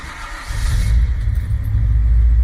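A 1968 Chevrolet C10 restomod with a new engine and Atomic 2 EFI cranks and catches, then settles into a loud, close, steady rumbling idle with a light rev rising near the start.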